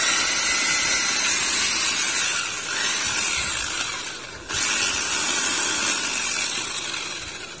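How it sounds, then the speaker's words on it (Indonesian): A kitchen blender runs continuously, grinding spinach, broccoli, mulberry leaves and peas into a shrimp-food paste. It makes a loud, steady whirring roar that dips briefly partway through, then returns at full strength. "Sekarang kita mau blender sayuran, bayam,"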